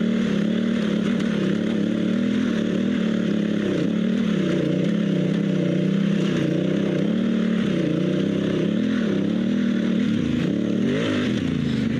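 Adventure motorcycle on Kenda Big Block dual-sport tires climbing a hill, its engine droning steadily and loudly at high revs with small pitch swells as throttle shifts, heard continuously throughout with no talk.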